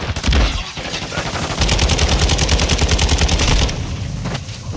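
Rapid automatic gunfire rattles nonstop in Call of Duty: Modern Warfare II, loud and close, with dense crackling shots layered over a booming low end.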